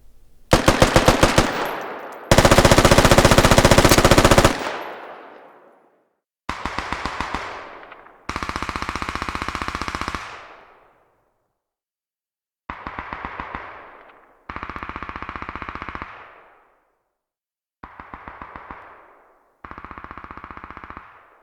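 F88 rifle fire in the military shooter game Squad: loud, close bursts of rapid automatic shots in separate volleys with short pauses between them, each burst ending in a ringing echo tail.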